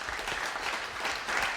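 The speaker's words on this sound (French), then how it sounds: "vous pouvez les applaudir" A crowd applauds the winners of a mixed team bowling challenge, steady dense clapping filling the whole stretch at moderate distance, with no voices on top.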